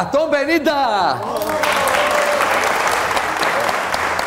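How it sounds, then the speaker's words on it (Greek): A studio audience on the Greek Wheel of Fortune game show bursts into loud, sustained applause that fills the room as a voice talks over the start. "Γι' αυτό και χειροκροτήσατε οι άνθρωποι."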